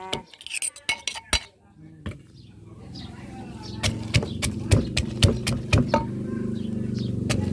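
Chili and garlic pounded in a mortar for som tam, a series of sharp, close knocks, sparse at first then settling into a steady rhythmic pounding, with someone talking between strikes.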